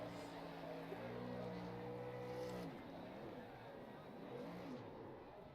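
A race truck engine on an oval track runs loud and steady, then cuts out partway through, leaving sputtering, wavering engine tones as it winds down; a voice talks over it.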